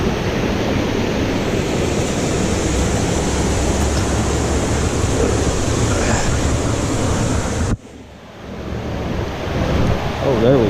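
Rushing water at a Virginia creek or river, a steady loud broadband wash resembling tumbling stream flow for most of the clip, then cutting abruptly to a quieter rustle before building again.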